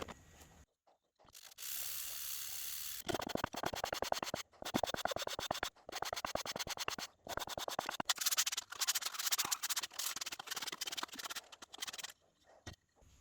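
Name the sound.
hand sanding leopardwood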